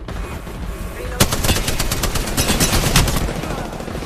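Rapid automatic gunfire from an Apex Legends firefight, loud and close, opening after a second of background noise and continuing as dense overlapping bursts with sharp repeated shots.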